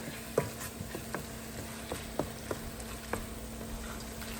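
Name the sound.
chermoula sauce sizzling as it is sautéed in a pan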